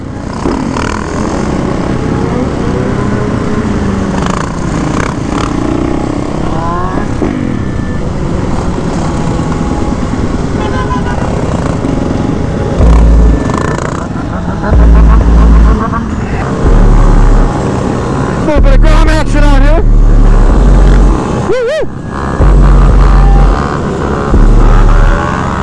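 A supermoto motorcycle being ridden in Texas, its engine roaring loud and close throughout, rising and falling through gear changes, with heavy wind buffeting and a few louder bursts later on.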